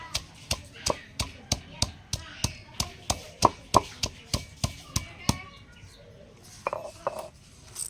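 Green leaves pounded by hand to draw out their juice: about fifteen sharp, evenly spaced thuds in a steady rhythm, then softer, scattered knocks, with birds chirping faintly in the background.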